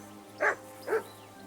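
A dog barks in the video game Kingdom Come Deliverance 2, three short, evenly spaced woofs over a quiet low background hum.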